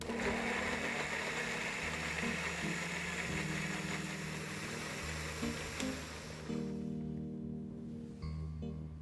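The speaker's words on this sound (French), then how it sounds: "Il faut bien le mixer" An electric blender whirs steadily while mixing paprika and saffron powder, a loud buzzing motor hum that shifts pitch a few times before winding down near the end, with no voices.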